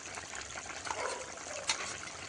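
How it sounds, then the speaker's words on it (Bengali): Fried fish slide into a simmering curry gravy, making a soft, faint bubbling and liquid splashing with a brief sharper plop near the end. "এখন ভেজে রাখা মাছগুলো দিয়ে দেবো"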